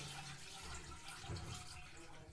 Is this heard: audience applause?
no